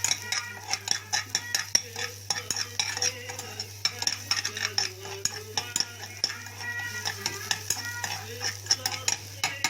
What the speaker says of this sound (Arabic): هنحط بقى شويه الثوم، ماشي. هنقلب على طول اهو.